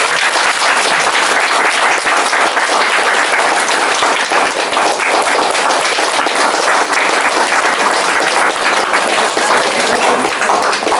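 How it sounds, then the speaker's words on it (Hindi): Guests at a wedding barat procession applaud loudly and steadily for about eleven seconds, a dense, continuous wash of many hands clapping close by, with no speech heard above it. "ताली बजा देंगे।"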